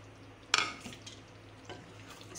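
Cumin seeds and chopped ginger hit hot oil in a mutton karahi. The ingredients land with a sharp clatter, then a steady low sizzle continues, with a few faint scrapes of a utensil against the pan.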